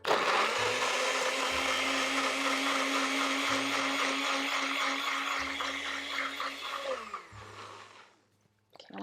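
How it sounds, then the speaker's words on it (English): A blender pulverizes dates with green chilies, a loud continuous motor whir with a churning grind that runs for about seven seconds, then winds down and stops, followed by a brief clatter at the end. "now we're just gonna mix this up until those dates really are pulverized"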